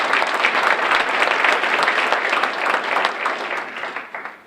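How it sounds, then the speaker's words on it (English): A large audience at an academic recognition ceremony claps for award nominees, dense, loud applause sustained throughout before thinning slightly at the very end. "let's pause, clap for them, pause, clap for them"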